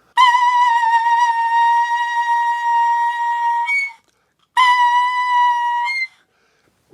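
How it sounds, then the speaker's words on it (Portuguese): A reed mouthpiece played alone without its instrument, giving a shrill, whistle-like tone held steady for about four seconds, then a second shorter blast after a brief pause; clear and loud with nothing else audible. "E aí eu vou fazer um som aqui só com a boquilha para vocês verem. É um som esquisito, né? Um som de um apito,"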